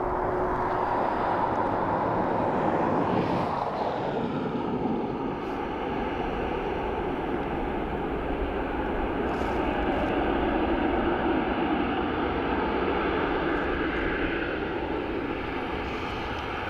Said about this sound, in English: So that's Ryanair from Athens.